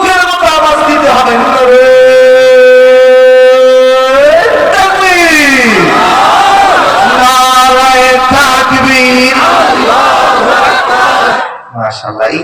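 Large crowd at a Bangladeshi Islamic waz mahfil in Rangpur shouting together in loud, sustained unison bursts, with a preacher's amplified voice leading between the chants.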